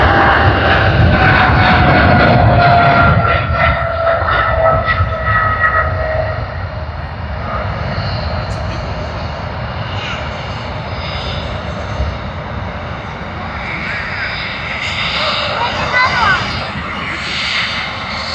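Jumbo jet engines roar loudly at Sydney Airport, a steady broad rumble with a rising whine that fades slightly midway then swells again, with a voice talking over it.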